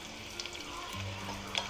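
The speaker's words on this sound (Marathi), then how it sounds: "लसूण चांगला खमंग परतून घ्यायचा." Chopped garlic cloves sizzle in hot oil for a tadka, a soft, steady frying crackle with occasional stirring clicks and a low background hum.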